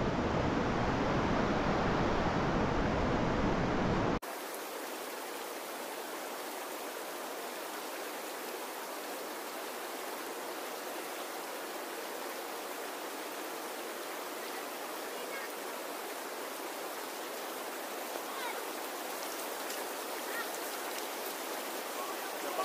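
A clear mountain stream in the Cordillera town of Tubo, Abra, flows with a steady, even rushing hiss that continues throughout.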